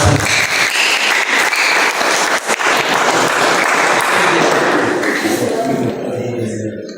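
A church congregation applauds loudly and steadily during a sermon, a dense wash of clapping with some thumps that fades slightly toward the end.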